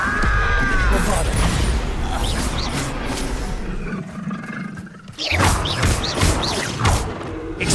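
Bombarda spell blasts in the Hogwarts Legacy video game: loud, crashing explosive bursts with heavy thumps and rumble, a brief lull, then another forceful blast over busy combat ambience.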